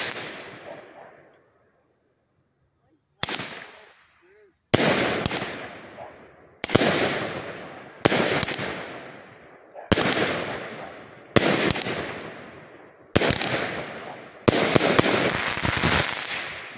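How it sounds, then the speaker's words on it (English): Fireworks going off outdoors in a series of loud, close bursts, each with a crackling tail, arriving roughly every one to two seconds after a brief quiet start and merging into a dense barrage at the end. "Great fireworks right there"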